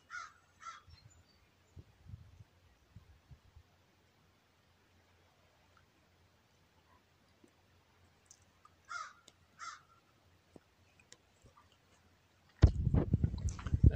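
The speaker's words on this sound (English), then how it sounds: "That's one of the herons" A few harsh, croaking calls from a heron ring out at a distance across a quiet outdoor scene, separated by long pauses, before a burst of close rustling noise at the end.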